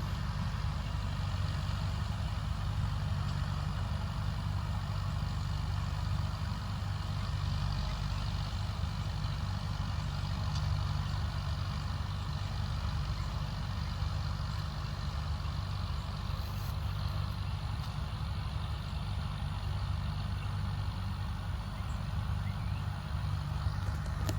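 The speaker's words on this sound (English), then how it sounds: "Bog it down a little bit, 85 horse tractor." An 85-horsepower tractor powering a John Deere 458 hay baler in an Alabama field, a continuous, loud, low engine drone with steady machinery hum throughout and no talking.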